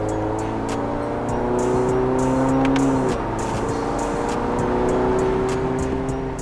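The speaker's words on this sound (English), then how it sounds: "Let's do a third gear pull." A 2021 Subaru Crosstrek fitted with an aftermarket exhaust pulls hard in third gear, its engine drone climbing steadily in pitch, briefly dipping near the midpoint, then rising again, loud and close throughout with no talk.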